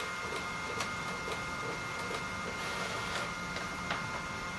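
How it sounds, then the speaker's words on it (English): A battery-powered printer printing a page in a basement, a steady mechanical whir with faint regular ticks and clicks throughout, moderately quiet and without voices. "You can hear the printer starting to crank away."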